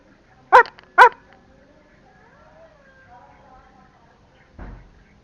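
Two sharp, close dog barks in quick succession, followed by a quiet lull with faint distant sounds and a low thud near the end.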